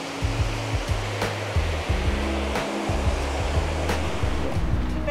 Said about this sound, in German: Und hier ist so ein Bach.